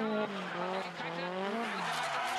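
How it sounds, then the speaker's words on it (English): The tires of a drift race car squeal in a long sustained skid at a D1SL drift event, loud and continuous, the pitch wavering as the engine note rises and falls. "She begins her drift way out front."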